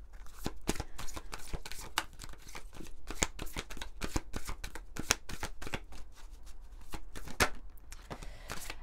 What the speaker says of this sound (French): on va prendre quelques cartes d'un autre oracle des fées de Dorine Virtue